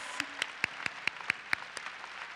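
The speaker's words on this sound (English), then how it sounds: "let's just take a moment to give a round of applause to those folks as well" A graduation audience claps for the graduates' supporters, a sparse run of about ten separate, fairly faint claps spaced evenly across a couple of seconds rather than a full roar.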